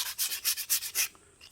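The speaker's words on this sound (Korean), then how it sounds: "이거는 지금 현재 320방 사포입니다." Steady back-and-forth sanding of a wooden mug with coarse 320-grit sandpaper, about six rhythmic rubbing strokes close up, then the scratching stops.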